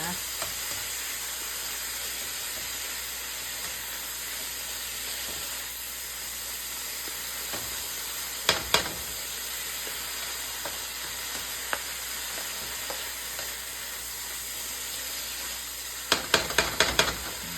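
Ingredients for Filipino pancit noodles are sautéed in a pan, making a steady close sizzle and hiss, with a few sharper clinks and scrapes from stirring that stand out now and then.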